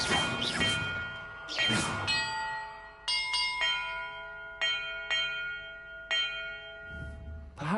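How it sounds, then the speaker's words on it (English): Bells struck one at a time in a bell-order puzzle in the video game Hogwarts Legacy, several loud, clear pealing chimes that ring out and decay between strikes, with heavier crashing clangs near the start. "Perhaps the map contains clues about the order I'm supposed to ring the bells in."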